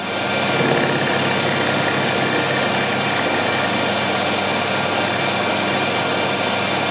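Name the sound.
milling cutter running in a lathe at 1000 RPM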